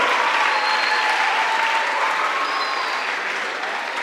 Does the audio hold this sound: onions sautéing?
no